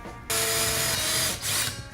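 A power drill bores a hole in an aluminum wheel, the bit lubricated with oil; a sudden loud whirring grind starts after a brief pause and holds steadily, dipping briefly near the end, with no talking.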